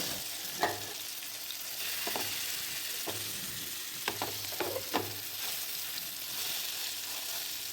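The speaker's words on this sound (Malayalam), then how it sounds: "ബാക്കിയുള്ളത് ഞാൻ പൊരിക്കാൻ വേണ്ടിയിട്ട് തയ്യാറാക്കി വെച്ചത് ഇതേപോലെ പൊരിച്ചെടുക്കാൻ വേണ്ടിയിട്ട് നോക്കുകയാണ്" Fish sizzles steadily as it fries in a pan, with several brief, sharper spatters and clinks rising above the continuous crackle; no one speaks.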